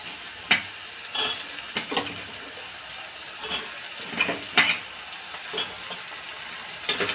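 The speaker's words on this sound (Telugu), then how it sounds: "ఇలా ఫ్రై అవుతున్నాయి కదండి, ఇంకా కొంచెం అయితే ఫ్రై కావాలండి." Vegetables, with ridge gourd pieces, frying in a pan under a steady low sizzle, with several sharper clicks and scrapes of a spatula scattered through.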